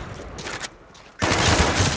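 Call of Duty Black Ops gunfire on PS3 bursts loud and close in dense, noisy volleys, easing briefly before a heavy, sustained barrage takes over.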